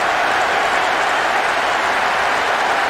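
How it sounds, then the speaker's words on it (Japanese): A stadium crowd in the soccer video game Winning Eleven 2012 boos the opposing side after a goal, a loud, steady, dense roar of many voices filling the full three seconds with no talk over it. "相手のブーイングが鳴り響きます。"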